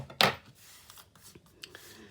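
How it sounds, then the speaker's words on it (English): A sharp snip of long scissors followed by a few quieter cutting and rustling sounds, close up. "A nice long pair of scissors helps with that loads."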